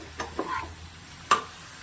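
Potato, pointed gourd and prawn curry being sautéed in a pan, a quiet low sizzle broken by a few brief stirring scrapes and one sharper clink of utensil against the pan.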